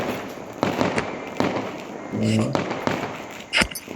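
Firecrackers pop and crack in sharp bursts at varying distances across a village after voting ends, with a voice talking in between the bangs.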